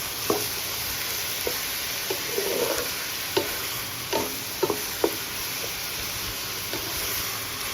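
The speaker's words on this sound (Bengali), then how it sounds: "দেখুন ভাজা ভাজা হচ্ছে" Bottle gourd and shrimp with green chilies fry in a pan, with a soft steady sizzle and scattered sharp clicks of a spoon stirring against the pan, no voices present.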